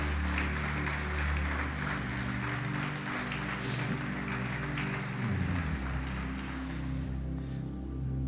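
A church congregation applauds during a sermon, a steady wash of clapping under a low sustained hum and droning tones, moderately loud and continuous throughout.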